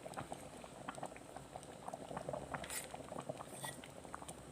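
Pork rice porridge boils in an electric rice cooker, a steady soft bubbling and popping patter with small scattered blips, continuous and close with no talking.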